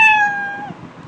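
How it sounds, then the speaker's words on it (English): A single loud meow from the stock cat sound of the Scratch coding tool's play sound block, close and clean, sliding down in pitch and fading within about a second. "now I am removing the first block, which is play sound meow"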